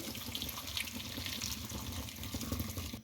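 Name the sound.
pouring about 1 kg of milk into carrot halwa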